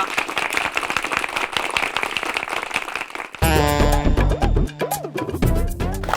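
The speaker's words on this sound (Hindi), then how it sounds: "ताल, तालियां।" An audience claps loudly at a staged comic magic show for children for about three seconds, a dense patter of hands that then gives way to loud music with sound effects.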